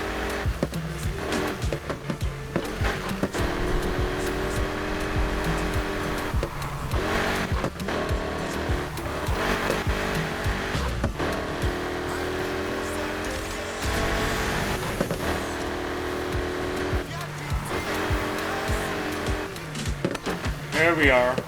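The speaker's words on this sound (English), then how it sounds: "Even at slow speeds, it wheel spins." A modified car in the Need For Speed Heat video game revs hard and spins its wheels at low speed, with a continuous engine drone and tire squeal while a person talks over it.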